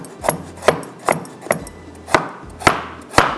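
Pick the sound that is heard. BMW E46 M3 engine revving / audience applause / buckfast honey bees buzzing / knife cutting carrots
knife cutting carrots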